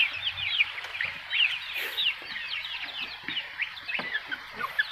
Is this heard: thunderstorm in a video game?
no